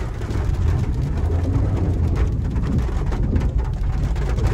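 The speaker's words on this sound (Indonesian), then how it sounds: "Sampai di lokasi malah hujan." Rain pours down steadily outdoors at a sunflower garden in Garut, a dense, even hiss with low rumbling underneath and no voices.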